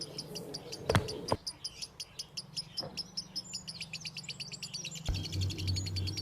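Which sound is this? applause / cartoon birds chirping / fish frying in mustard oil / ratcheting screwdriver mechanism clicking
cartoon birds chirping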